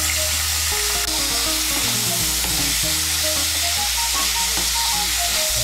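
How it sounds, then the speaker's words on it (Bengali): Lightly steamed small cauliflower pieces fry in hot oil, giving a steady, loud, close crackling sizzle with occasional stirring scrapes and no talking. "এই তেলের মধ্যে আমি ফুলকপিটা ভেজে নেব।"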